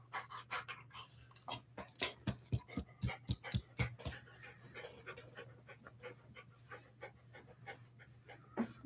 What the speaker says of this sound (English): You're such a loving dog.